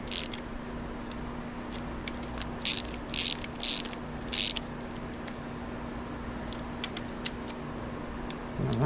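A ratchet clicks in short quick bursts while snugging the camshaft cap bolts on a MK3 Supra engine, several close, crisp runs of ticking separated by brief gaps over a faint background hum.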